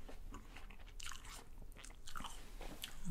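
Soft bites and chewing of an organic apple that has been stored a while and turned soft, giving muffled, less crisp crunches repeated close to the mic with no talking.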